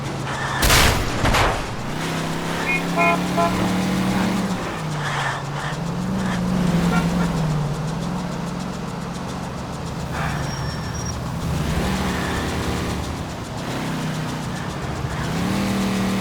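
Car engine in the video game L.A. Noire, a continuous mid-level drone that shifts pitch as the car speeds up and slows, with a few sharp cracks near the start, and no talking.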